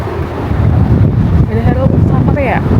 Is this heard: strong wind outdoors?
yes